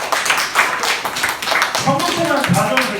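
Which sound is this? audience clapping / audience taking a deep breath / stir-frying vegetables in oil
audience clapping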